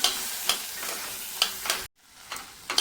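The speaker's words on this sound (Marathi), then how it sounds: "आता हे वाटाणे आपण याच्यामध्ये टाकून घेऊया मिक्स करायचे" White peas are stirred into hot spiced oil in a pan, making a steady sizzle with a few sharp scrapes and clinks of the spoon. The sound is close and there is no talking.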